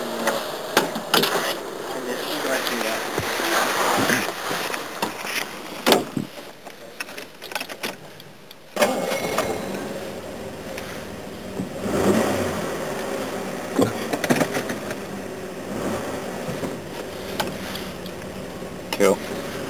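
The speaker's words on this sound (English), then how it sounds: "This will be the last start and move of this engine" A Jaguar XJ6 engine with a faulty gearbox cranks, starts and revs as the car moves forward. The engine sound is loud and close, with a steady running drone, revving swells and mechanical clatter.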